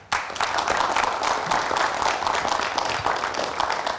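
Studio audience applause on a television talk show: a sharp onset, then brisk, dense clapping sustained at a moderate level to the end.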